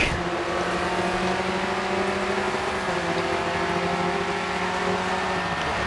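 A race car in the video game Grid 2 drives and turns, its engine droning steadily at high revs with a constant, even tone and no voices over it.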